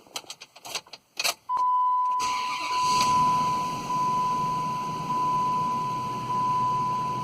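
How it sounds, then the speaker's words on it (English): A 2005 Dodge Dakota engine cranks and fires with a newly programmed key, preceded by key jangling and a steady chime beep, then settles into a loud, steady idle close by. "that key starts and runs the engine"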